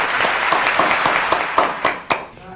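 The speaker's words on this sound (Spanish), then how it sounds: "merecen un gran aplauso" Audience applause following a school class presentation on Peruvian theatre, a moderate wash of clapping with a few sharper individual claps near the end before it tapers off.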